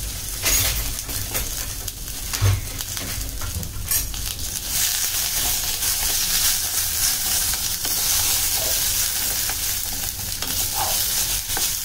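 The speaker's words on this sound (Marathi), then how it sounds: "टोमॅटो हे छान आता लालसर होईपर्यंत परतून घ्यायचंय।" Tomatoes and poppy seeds sauteing in a steel pot give a steady, close frying sizzle with stirring scrapes throughout, and there is no talking.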